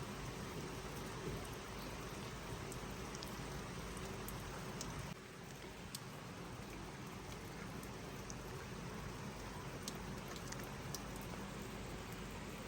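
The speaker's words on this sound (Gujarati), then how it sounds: "ભારે વરસાદ આવતા ચારેક ઓર પાણી જ પાણી જોવા મળ્યું છે" Steady hiss of heavy monsoon rain pouring down in Banaskantha, constant and fairly faint, with occasional sharp drips and no voices.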